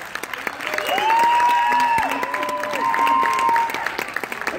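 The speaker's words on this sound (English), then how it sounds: "I think they deserve a big round of applause." An audience at a youth football awards event claps for first and second grade players, steady applause mixed with a few cheers and whistles rising over the crowd.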